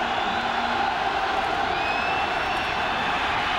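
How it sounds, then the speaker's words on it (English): Crowd noise swelling inside a college football stadium during the 1999-2000 Fiesta Bowl, Nebraska against Tennessee, a dense continuous roar heard from a distance, with a faint announcer's voice over it. "Crowd gets loud."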